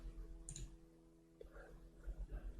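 A computer mouse gives a single faint click on a software installer's Next button, with a soft tap shortly before it in a quiet room.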